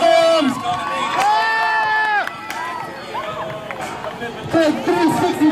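A crowd cheering and whooping at a BMX and skateboard stunt show at the Allentown Fair, with loud shouts and high yells near the start and again near the end, and voices calling out over the noise.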